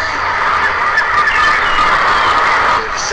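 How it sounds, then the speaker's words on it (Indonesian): Seagulls calling as a radio drama sound effect aboard a luxury ship bound for Barcelona, a continuous loud chorus of squawking cries that fades at the end. "menikmati suara-suara burung camar"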